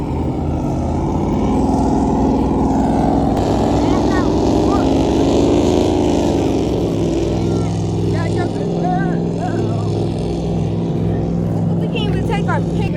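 A loud motorboat passes close by at a beach, its engine drone swelling and then fading, while people talk over it.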